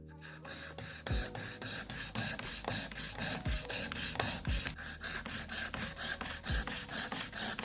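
A nail file rasps across a gel nail in fast, even back-and-forth strokes, about four per second, close and steady throughout with occasional sharper scrapes.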